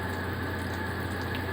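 Water pours and splashes into the shower of a Coachmen Clipper Cadet RV, a steady close rush of running water with a low pump-like hum underneath and no talk.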